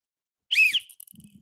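A whistle is blown once, near and fairly loud, giving a short high shrill tone, followed by faint low rustling.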